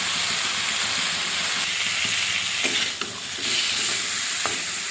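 Pabda fish gets stirred in a mustard and poppy seed spice paste in a pan, a steady close sizzle of frying with soft scraping and stirring knocks layered over it throughout.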